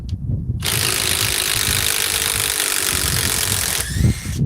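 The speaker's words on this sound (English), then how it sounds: "once it releases the fastener, now let's do it regular." A power ratchet spins off a fastener in one sustained, loud broadband whir of about three seconds that starts abruptly and cuts out near the end, with quieter low handling noise before and after.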